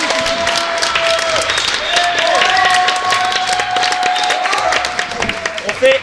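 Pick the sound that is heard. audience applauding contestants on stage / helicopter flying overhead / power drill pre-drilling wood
audience applauding contestants on stage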